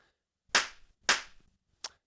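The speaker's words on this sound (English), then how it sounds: "doing a clap sync whilst one hand is on a microphone is going to be a little bit difficult" Sharp hand claps used as an audio sync mark, three quick distinct slaps about half a second apart, the last one shorter and thinner, in an otherwise quiet room.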